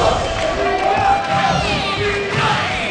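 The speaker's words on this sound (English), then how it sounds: "Give it up on the right for Bala. The crowd giving it up for Bala." A large crowd at the EVO 2012 King of Fighters XIII fighting game tournament cheers and roars continuously, loud and sustained with shouting voices throughout.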